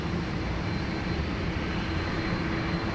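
A jet airliner pushing back on the apron at Sydney Airport, giving a steady broadband engine roar and rumble that stays loud and even throughout with no talk.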